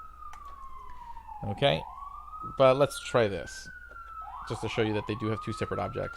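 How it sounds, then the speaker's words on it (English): A police siren wails on a busy Brooklyn street, a steady distant rising-and-falling tone running through the whole stretch while someone talks over it at close range. "sorry for the sirens in the back, I live in a busy part of Brooklyn."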